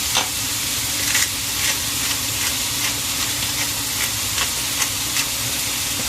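Food sizzles and hisses steadily while frying in a pan for a Filipino nilaras na mais sweet corn soup, a loud continuous crackle with faint stirring ticks and no talk.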